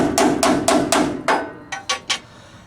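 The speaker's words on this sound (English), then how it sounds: "I'm not hitting it hard. I'm actually choking up on the hammer so I don't get crazy." Eight light, sharp taps from a choked-up hammer on rusty metal, ringing briefly, evenly spaced at first, then quicker and softer near the end.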